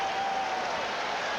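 Fans at a 1990 Expos baseball game in Montreal cheer and applaud as a steady, broad crowd roar that holds level throughout, distant and continuous with no distinct voices.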